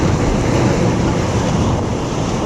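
Ocean waves crash on a beach at Tower 7 with a loud, continuous roar of surf, mixed with heavy wind buffeting the microphone and no voices.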